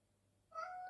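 A pet cat meows once, a short, fairly faint tonal call that starts abruptly after a quiet room tone and holds steady to the end.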